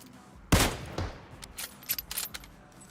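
A single loud Kar98k sniper rifle shot cracks in a video game, followed by a lighter echoing report and a scatter of smaller clicks and metallic clatters, all sharp and close.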